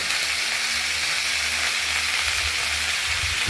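Mixed vegetables, including ridge gourd, pointed gourd, pumpkin, drumstick, taro and raw banana, sizzle in hot oil with bay leaf, dried chilli, cinnamon, cardamom and panch phoron. The frying is continuous and close by, with no voices.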